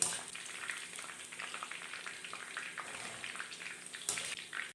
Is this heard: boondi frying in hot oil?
yes